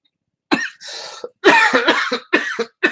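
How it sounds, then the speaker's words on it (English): A burst of repeated coughing, several harsh close coughs in quick succession with brief gaps between them. "I cannot get rid of this cough"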